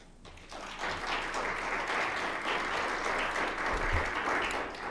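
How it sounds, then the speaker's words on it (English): An audience breaks into sustained applause, many hands clapping evenly at moderate volume throughout. "I'm not used to applause"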